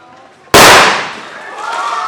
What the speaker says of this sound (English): it's going to build up so much pressure in there that it's going to explode.